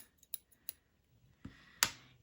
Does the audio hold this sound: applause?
no